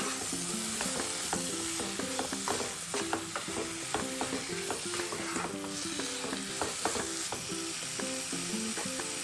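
Chilli powder and salt sautéing in a pan for chicken curry, continuous sizzling with repeated clinking, scraping stirs in a busy rhythm, close and loud, no talking.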